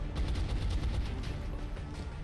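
Dense burst of rapid gunfire from a weapon in the turn-based strategy game XCOM: Enemy Within, heavy low-end booming rattle sustained throughout at steady loudness with no talk.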